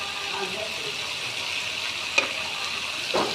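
Bitter gourd (karela) frying in a pan with a little turmeric, giving a steady, faint broadband sizzle throughout, broken by a couple of brief clinks or stirring knocks near the end.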